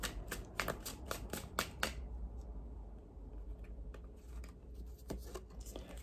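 Tarot cards being shuffled and drawn: a quick burst of crisp riffling flicks for about two seconds, then quieter sparse taps and slides of individual cards, close by.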